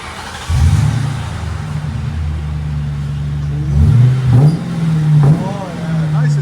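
A Ford Crown Victoria with a dual exhaust fires up and idles with a deep steady burble, then gets blipped in a few short revs, loud and close, with people talking nearby.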